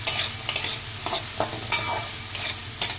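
Vegetables frying in a pan with salt and turmeric for quinoa pulao, a steady sizzle under repeated close scraping strokes of a stirring spoon, with no voices.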